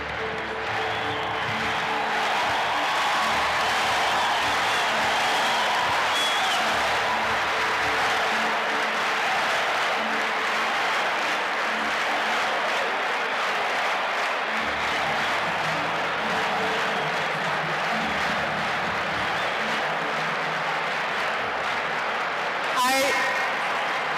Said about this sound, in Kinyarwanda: muhaguruke tubakirane urugwiro n'amashyi bakwiye